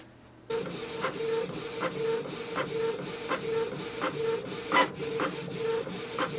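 A Canon Pixma TS3440 printer printing a document, its motor humming steadily with regular rhythmic clicks and swishes of the paper feed repeating about every half second, close and clear with no talking.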